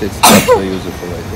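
A single sharp, loud sneeze bursts out near the microphone on a trip to the Black Sea, with a voice speaking around it.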